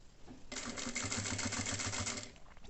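Sewing machine stitching fabric at a 3.5 stitch length, a loud, rapid, even mechanical chatter starting abruptly and running for about two seconds before stopping, heard close up with no talk.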